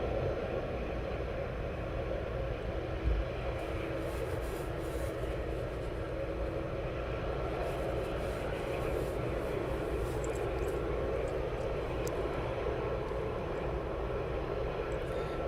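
A 31-year-old Boeing 737 on approach to East Midlands Airport, with another aircraft also inbound, gives a continuous distant jet roar that holds steady throughout without any voice.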